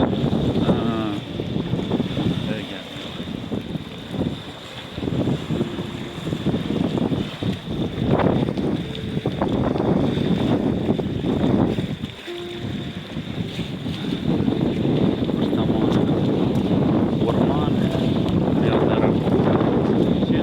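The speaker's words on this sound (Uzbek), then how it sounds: "Kichkina ko'l bo'lsa ham to'lqini bor ekan. Shamol turg'izdi shekilli." Wind-driven waves on Müggelsee lake in Berlin lap and slosh against a shore or hull under gusty wind buffeting the microphone, with brief voices at times.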